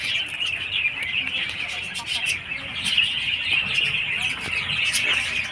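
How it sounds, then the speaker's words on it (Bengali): Colourful birds chirping in a park garden, steady high twittering from several birds close by, with faint background activity. "এখানে পাখি পাখি দেখছি, কি সুন্দর কি আর পাখি এক একটা কালার।"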